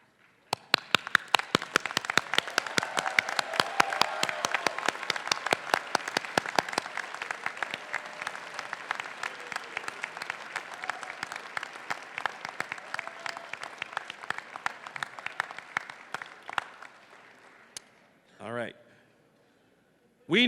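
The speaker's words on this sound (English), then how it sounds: "Please stand up and give them an enthusiastic cheer." Graduates at a Berkeley Engineering doctoral commencement stand and applaud their families and friends, a dense, loud sustained ovation of clapping and cheering lasting nearly the whole stretch before fading, followed by brief voice-like tones near the end.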